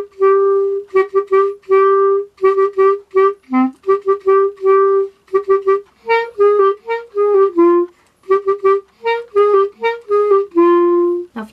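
A woodwind plays RM's part as a steady string of short, detached repeated notes at one main pitch, with a few stepped phrases, clear and close with no talk.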